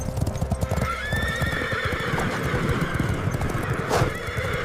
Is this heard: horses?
yes